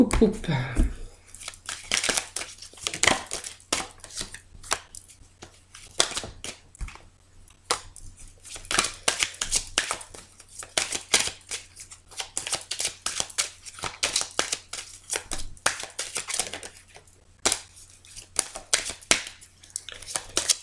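A deck of tarot cards is cut and shuffled by hand in repeated riffling and slapping bursts, close and crisp, with a voice speaking in between.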